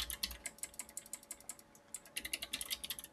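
Fast bursts of typing on a computer keyboard, crisp clustered key clicks in an uneven rhythm with a short pause midway, close and fairly quiet with no voices.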